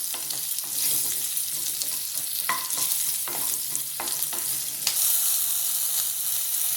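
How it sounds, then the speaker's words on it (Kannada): Onion frying in a pan for a lentil and greens curry, a steady bright sizzle with a few scraping stirs of a spoon, heard up close with no voices. "ಹಾಗೆ ಈ ಈರುಳ್ಳಿ ಕೂಡ ಹಾಕೋತಾ ಇದ್ದೀನಿ. ಸ್ವಲ್ಪ ಹುರ್ಕೊಳ್ಳೋಣ ಅದನ್ನು."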